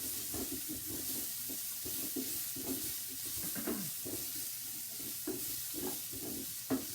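Onions and meat for a tagine fry in a pan with a constant sizzling hiss, while a utensil stirs and scrapes in irregular soft bumps; no talking.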